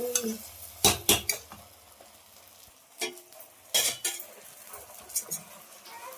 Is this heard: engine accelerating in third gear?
no